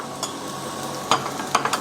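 Food fries quietly in a kazan with a soft, steady sizzle, broken by a few sharp clinks and scrapes from stirring.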